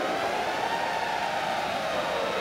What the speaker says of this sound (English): What does the siren mean?